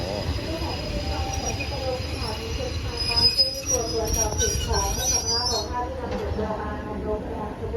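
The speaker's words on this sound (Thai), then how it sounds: "อันนี้เป็นขบวนรถธรรมดานะครับผม" An ordinary third-class train on Thailand's northeastern line, crowded during the Songkran holiday, rumbles along with its wheels squealing shrilly and continuously, while voices murmur faintly among the passengers.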